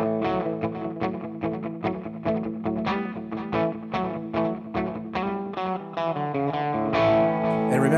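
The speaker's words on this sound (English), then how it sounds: "I'm gonna select a spring reverb." Electric guitar played through a NUX Trident multi-effects pedal set to a spring reverb, a steady run of picked notes and chords ringing out with a wet, lingering tail, loud and alone.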